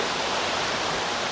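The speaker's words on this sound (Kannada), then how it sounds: "ಎತ್ತಿನಹೊಳೆ ಜಲಪಾತ ಅಂತ ಕರೀತಾರೆ" Ettinahole waterfall in the Shiradi Ghat area, a steady dense roar of falling water that fills the whole short stretch at an even level, with no voices.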